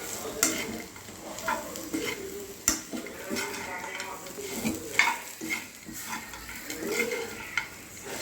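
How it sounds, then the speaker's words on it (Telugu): Onions being stirred with salt in a pan, a spoon scraping and clinking against the metal in irregular strokes over a faint sizzle, close and moderately quiet. "కొంచెం ఉప్పు. ఎర్రగడ్డలు వేసుకొని మిక్స్ చేసేసుకోవాలి."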